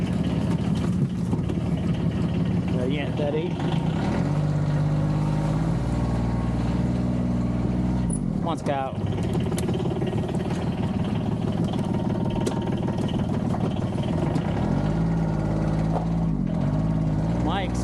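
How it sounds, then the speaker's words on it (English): A Yamaha engine in a side-by-side utility vehicle idles steadily at mid pitch throughout, with people talking over it and brief rattles and knocks. "That's that Yamaha engine in there."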